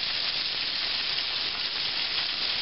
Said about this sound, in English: that frying has slowed dramatically, and that is almost ready